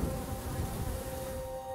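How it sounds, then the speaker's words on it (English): A dense, continuous buzzing of honeybees, close and loud, with a steady droning hum throughout. "I just love bees."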